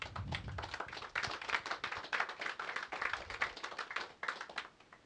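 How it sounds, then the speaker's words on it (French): A small crowd gives a short burst of dense, steady clapping at the dedication of a new recording studio, close by and fading slightly at the end, with no talk over it. "donc on peut aussi l'applaudir"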